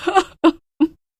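A woman cries loudly in three short, strained wailing sobs separated by brief silences.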